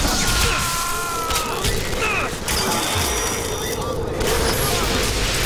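Bioshock Infinite combat: loud, busy volley gun fire with mechanical clanks, booms and crashing impacts running throughout, mixed with game effects and an occasional voice.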